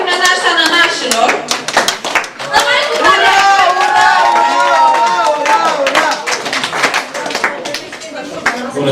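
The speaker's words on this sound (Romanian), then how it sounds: "Aplauze pentru nănașa nănașilor!" Wedding guests clap in a crowd, the dense patter of applause running throughout under loud overlapping talk and voices.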